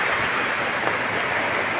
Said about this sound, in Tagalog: Kusog ang ulan karon.